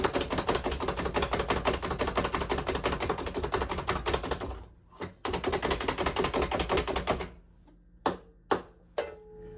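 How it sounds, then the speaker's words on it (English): A manual food chopper rapidly chopping hazelnuts for biscotti, giving dense, fast rhythmic clacking for about five seconds, a brief pause, another burst, then a few separate sharp knocks, close and loud. "this one chops hazelnuts and onions and garlic"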